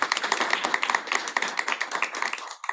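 A crowd applauds at a school board meeting: dense, steady clapping from many hands, close and fairly loud, lasting a few seconds before tapering off.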